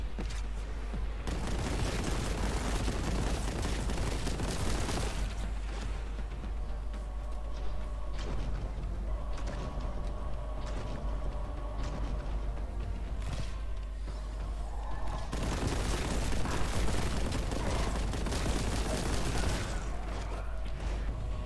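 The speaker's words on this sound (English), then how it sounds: "I'm getting fed up with how many there are, so kaboom. They explode on impact." Tank grenades blasting on impact in Warhammer 40k Boltgun, heavy booming explosions and gunfire in bursts at the start, middle and end, loud and close amid quieter combat noise.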